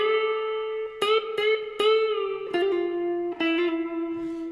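Electric guitar notes played with a pick, giving sharper, more pronounced attacks, each string bent up and sustained with light effects and reverb; close and alone, with no talking.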